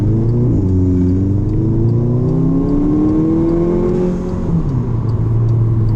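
Volkswagen Jetta GLI with a 300-horsepower engine accelerating on a road, its engine note climbing steadily and loud and close throughout, then dipping briefly before pulling on.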